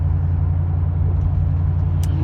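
Steady low engine and road rumble inside a moving car on a highway drive, a constant drone with no talking.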